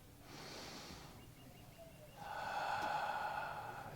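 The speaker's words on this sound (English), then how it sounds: "Gentle breath in, slow and long, controlled breath out, and pause." A gentle, slow controlled breath drawn in and then let out, close and soft, with a quiet inhale followed by a longer, steadier breathy exhale; no talking.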